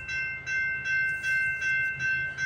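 A CPKC freight train with a BNSF locomotive rolls slowly past at Guelph Line in Campbellville, its steady wheel noise rising and falling in a rhythmic pulse, with a high tonal ring sustained throughout.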